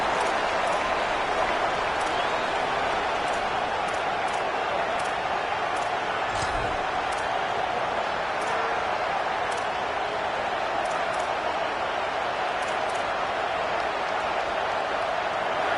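Football stadium crowd roaring at a college game between Iowa and Florida, a sustained, dense wall of cheering and noise that holds steady throughout at a big moment late in the game.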